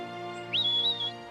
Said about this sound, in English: Using a series of whistles and calls, Bryn directs his dogs to encourage the ewes to take the tracks to the lower ground.